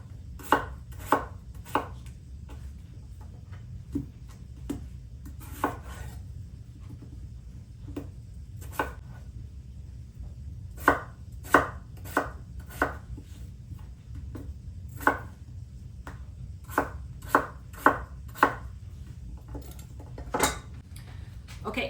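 Peeled potatoes are diced with a knife on a board, sharp irregular chops coming in bursts of quick taps with short pauses, close and clear over a low hum.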